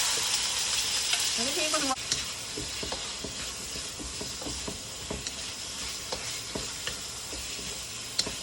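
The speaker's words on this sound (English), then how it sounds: "Okay, the sizzle, sizzle, sizzle, sizzle." Seasoned chicken, marinated overnight, sizzles steadily in hot sesame oil, a dense continuous fry with scattered pops and crackles throughout; a brief voice and a few stirring clicks break in near the start.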